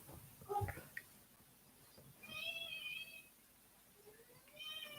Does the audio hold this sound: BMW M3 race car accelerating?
no